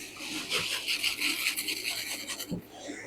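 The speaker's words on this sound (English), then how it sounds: "that salt is the abrasive that cleans your iron" Hot clothes iron coated in melted wax being rubbed across salt to scour its soleplate, a steady gritty scraping rasp with rhythmic strokes, close and alone, ending with a brief soft thump.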